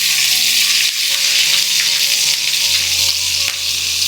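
Crushed garlic, a small piece of crushed ginger and chopped green chili sizzling in ghee for neychor, a loud, dense, hissing fry that runs steadily throughout, up close with no talking.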